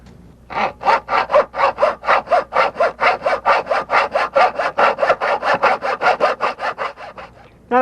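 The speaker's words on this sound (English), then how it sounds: "I'm going to mark it where it butts up and then cut this length in a miter box." Hand saw cutting aluminum boat rub rail in a miter box, a close, loud, steady back-and-forth rasp of about two dozen even strokes, alone with no talk.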